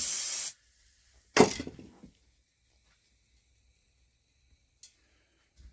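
Penetrating spray squirted down a valve stem on a Villiers Mk12 engine. Two short, close hissing bursts are followed by a brief trailing fizz, then near silence with a couple of faint ticks.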